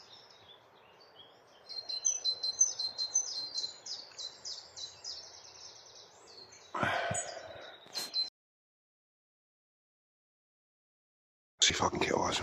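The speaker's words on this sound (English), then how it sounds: "That's a black cap." A blackcap sings outdoors in spring, its fast, scratchy warbling phrases repeating at close range for several seconds, with a person speaking and breathing nearby and a brief silence near the end.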